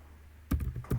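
Quick burst of computer keyboard typing in a spreadsheet, a few close, crisp key clacks in uneven rhythm against quiet room tone.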